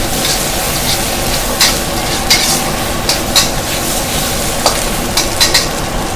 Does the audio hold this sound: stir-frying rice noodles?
yes